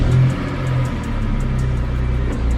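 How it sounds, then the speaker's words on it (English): A BMW E46 M3 with the S54 engine runs at a steady idle, a close, low rumble with a slight early surge, and no voices. "Start up your car, let it run for a little bit, let the oil warm up"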